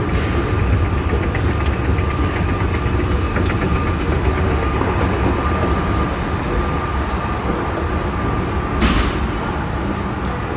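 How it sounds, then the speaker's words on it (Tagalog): A train arriving at Somerset Bridlewood station makes a loud, steady, unbroken rumble of wheels and engine for about ten seconds, with no talk over it. "The next Somerset Bridlewood train will arrive in 1 minute"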